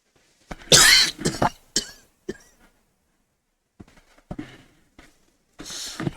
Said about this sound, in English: when I have a coughing fit like that